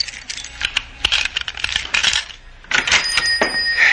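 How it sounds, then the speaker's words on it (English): Keys fumbled at a door lock in an old-time radio adventure drama: a close, busy stretch of metallic jingling and clinking, irregular bursts of rattling keys with brief pauses, alone without talk. "Stop fumbling with those keys."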